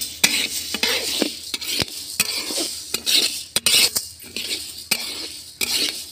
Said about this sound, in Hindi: देखिए इस तरह का चला चला के भूंजना पड़ेगा